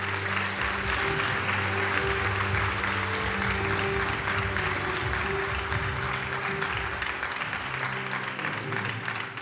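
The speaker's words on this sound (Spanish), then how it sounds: "Déselo fuerte que Él se lo merece" Continuous congregational clapping fills a church during a Spanish-language sermon on fasting and prayer, dense and steady over held keyboard chords, tapering slightly toward the end.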